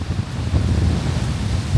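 Strong wind buffets the microphone outdoors, a steady loud rumbling roar with no gaps, low and boomy, lasting the whole short stretch with no voices.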